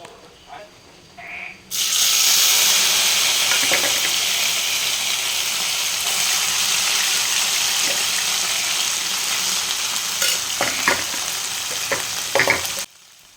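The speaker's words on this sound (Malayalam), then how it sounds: "നമ്മൾ ഓയിലൊക്കെ നന്നായിട്ട് ഇവിടെ ചൂടായിട്ടുണ്ട് ബീഫൊക്കെ നല്ലോണം വറ്റി റെഡിയായി നമുക്കിത് ഇതിലേ ഇതിലേക്ക് ഇട്ടിട്ട് ഇങ്ങനെ ഫ്രൈ ചെയ്തെടുക്കാം" Beef pieces drop into hot oil for beef pickle and fry with a loud, steady sizzle lasting about eleven seconds, with occasional clinks and scrapes of stirring near the end.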